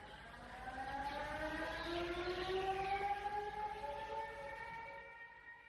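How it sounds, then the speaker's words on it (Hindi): A distant wailing siren sounding at 3 a.m. across a religious camp rises slowly in pitch over a steady hiss, holding a sustained droning tone before fading out. "हर रोज सुबह 3 बजे पूरे डेरे में सायरन बजता है"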